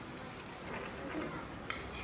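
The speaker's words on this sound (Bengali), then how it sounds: "ওই তেলে পেঁয়াজ কুচি দিয়ে দিয়েছি" Chopped onion fries in oil left over from frying fish for a cucumber fish curry. The sizzle is soft and steady, with a single sharp clink of a utensil against the pan.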